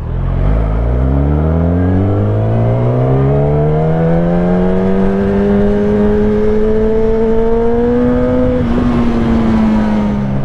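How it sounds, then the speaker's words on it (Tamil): Superbike engines, a Kawasaki ZX-10R, Kawasaki Z900 and Suzuki GSX-S750, rev loudly and close, one steady rising howl climbing in pitch over about ten seconds before easing off at the end. "let's hear the sound of super bikes"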